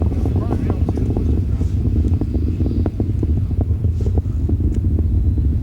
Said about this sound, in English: Discovery's passing through the range of maximum dynamic pressure and 3 engines are throttling back up.